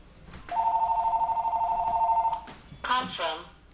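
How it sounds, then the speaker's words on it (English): A telephone rings indoors with a sustained electronic trill lasting about two seconds, loud and close, followed by a brief burst of talking. "Why is the phone always ringing"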